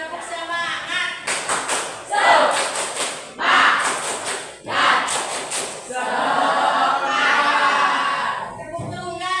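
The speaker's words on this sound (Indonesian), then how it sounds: "Nah, tepuk semangat." A class of children claps a rhythmic cheer in unison, with sharp bursts of clapping in groups separated by short pauses, then a longer sustained run, close and loud in a classroom, with voices mixed in.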